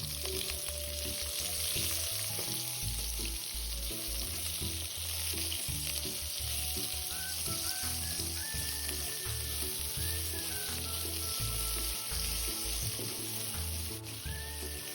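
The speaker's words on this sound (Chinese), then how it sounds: "接着再加入备好白洋葱炒香。" White onion stir-fries in hot oil alongside fish cake, a loud continuous sizzle running throughout with spatula scraping and tossing against the pan, no voices.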